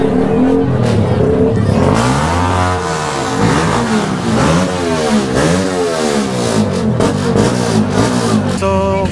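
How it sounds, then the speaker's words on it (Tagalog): Kawasaki ZX6R sport motorcycles revving hard at an outdoor motor show: loud, close engines rise and fall in repeated sweeping throttle blips, one rev overlapping the next, with a constant roar throughout and no clear talk. "So, kasalukuyan ng bombahan dito dahil mayroong motor show."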